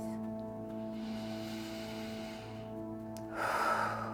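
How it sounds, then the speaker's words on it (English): A big, deep breath taken during a guided self-acceptance tapping session: a breathy rush of air near the end, close and fairly loud, rising over a steady droning musical background. "Big deep breath."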